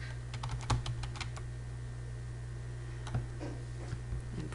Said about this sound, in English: And then type in my text